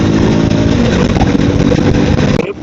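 A new third-generation KTM Duke 250 motorcycle is ridden fast on a road at about 110 km/h, making a loud, continuous engine drone mixed with wind roar that cuts off abruptly at the end.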